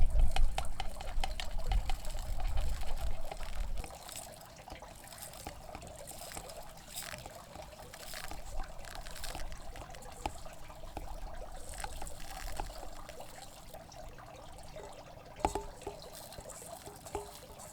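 A melted mixture of paraffin wax and beeswax pours into a tin can, a faint trickling and dribbling heard alone after a louder rumble in the first few seconds.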